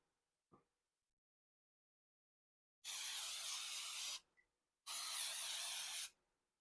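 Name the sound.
spraying the top and bottom plates of a waffle maker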